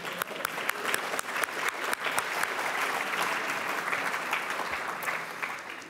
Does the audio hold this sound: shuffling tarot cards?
no